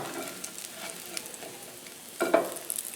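Bread and eggs sizzle and fry in a pan, a steady close crackle with a brief burst of louder spattering near the end as they are flipped.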